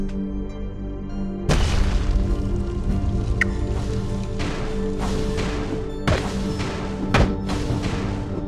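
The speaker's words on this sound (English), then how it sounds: "Enemy's turret has been destroyed." An enemy turret is destroyed in Dota 2 Mobile: a heavy booming crash hits first, then a couple more thumping impacts follow over continuous game music and battle noise.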